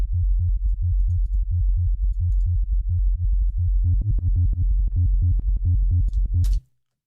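A sidechained sub-bass sine wave from a drum and bass production pulses in a steady, rapid rhythm of ducking low tones. Higher harmonic clicks join partway through before it cuts off abruptly, alone without talk.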